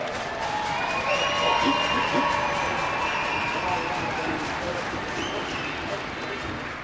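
A crowd at a women's hockey national championship ceremony gives continuous, even applause, with light cheering, for runner-up Midland University.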